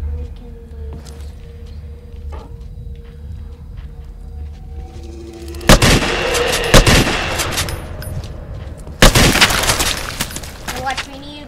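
Gunfire in a video game as a weapon shoots through metal bars: sharp loud bursts and cracks stand out over a quieter ambient game background with a low hum.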